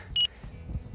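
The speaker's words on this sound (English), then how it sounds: "Oh, that's the timer." Timer beep heard once, a single short high electronic tone, clear and close, followed by low background rumble, no talk.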